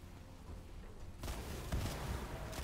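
Gunfire in the Warface video game, a few sharp, booming shots breaking in abruptly after a quieter stretch, followed by a dense, rumbling spray of reports, moderately loud.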